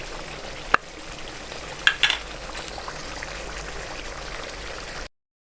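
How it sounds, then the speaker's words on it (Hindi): Shahi chicken korma simmering and sizzling in a pot with almonds and oil, a steady close bubbling hiss broken by a few sharp clinks of a utensil against the pot. "ये देखें शाही चिकन कौरमा पकते हुए"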